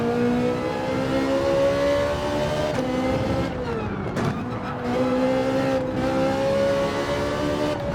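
A Ferrari 458 GT3 race car in Gran Turismo 7 holds a steady, loud engine drone that briefly dips off throttle as it shifts through corners, with faint tire scrub mixed in.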